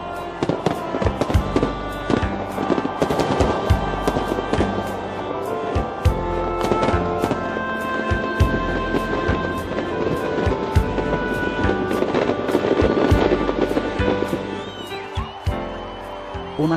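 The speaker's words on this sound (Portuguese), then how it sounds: "a beleza de quase 20 minutos de fogos de artifício de todas as cores, seja espolcando no céu" A New Year's Eve fireworks display in Rio de Janeiro, with many sharp bursts and crackles popping in the sky in quick, irregular succession over a continuous rumbling wash of explosions.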